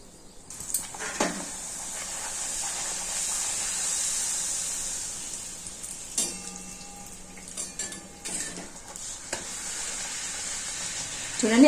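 Small puris made with mango pulp fry in hot oil while the cook splashes oil over them to puff them up. A steady loud sizzle and hiss runs throughout, broken by occasional stirring clinks.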